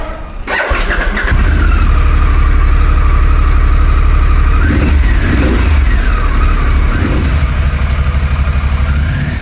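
A Harley-Davidson Pan America motorcycle engine starts and revs loudly up close, climbing and falling through several throttle blips over a steady, rumbling idle.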